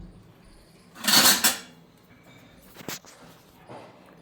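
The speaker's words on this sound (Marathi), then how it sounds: "बघूया, ढवळूया ते सगळं आधी." A spoon stirs chicken marinade with oil in a bowl, making a couple of short clinking, scraping bursts of metal against dish separated by near silence.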